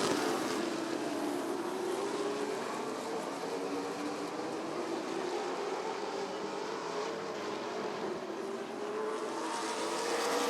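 Big 8 late model race cars circle Rockford Speedway in a continuous distant roar, a steady engine drone that swells slightly as the pack passes.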